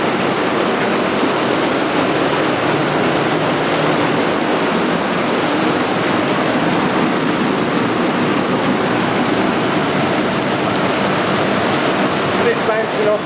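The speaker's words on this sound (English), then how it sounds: "I think it means it when they said heavy rain." Heavy rain pours steadily onto a roof, a dense, loud, unbroken hiss and patter that holds at the same level throughout with no letup.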